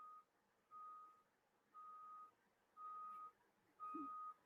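Truck reversing alarm beeping steadily, five evenly spaced tones about one second apart, fairly faint over low background rumble, with no talking.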